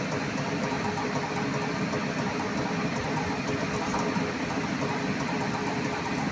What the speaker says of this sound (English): Now I am starting the machine. So machine started running.